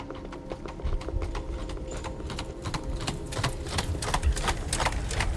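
Horse hooves clip-clopping in a paso fino gait, a fast, even patter of sharp hoof strikes that carries steadily through the whole stretch at moderate loudness with no talking.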